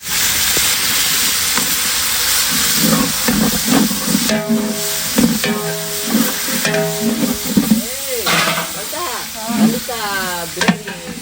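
Tomatoes hit a hot pan of frying coriander, green chili and mint, giving a loud close sizzle with rhythmic stirring scrapes and clinks, as a whistling pressure-cooker-like tone rises and falls near the end.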